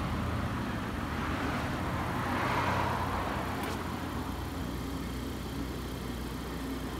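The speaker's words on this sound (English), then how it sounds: "2014 Honda Accord. Sounds really good. Muffler and resonator delete." A 2014 Honda Accord with muffler and resonator deleted and straight pipes idles steadily, a continuous low exhaust drone heard from close by with no talking.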